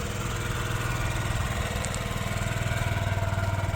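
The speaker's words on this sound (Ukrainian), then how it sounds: "Мотор працює ідеально." A Yamaha Gear UA08 scooter engine idles steadily with a rapid, even putter, close and moderately loud, with no voices over it.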